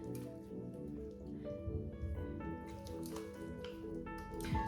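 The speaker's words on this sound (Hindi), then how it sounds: "और इसको मिक्स करेंगे अच्छे से।" Curd and oats are stirred together into a face pack, giving soft, wet squishing and dripping sounds that are close but faint under a steady musical background.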